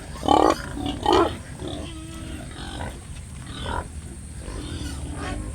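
Pigs on a farm grunting in short bursts while being fed napier grass, with two loud grunts close by early on and softer, scattered grunts after, no talking.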